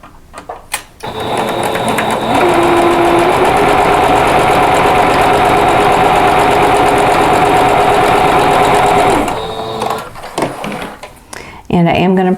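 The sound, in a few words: sewing machine sewing quilt rectangles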